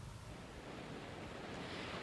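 Fierce hurricane wind from Hurricane Irma roars steadily in Miami, Florida, a dense broadband rush like heavy surf that stays loud and unbroken throughout, with no voices.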